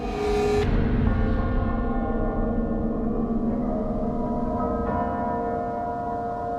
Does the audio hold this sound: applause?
no